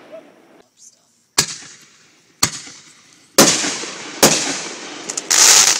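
Fireworks explode in a backyard home display, a run of sharp, loud bangs spaced about a second apart with crackling after each burst and a dense crackle at the end. Excited voices are heard in between.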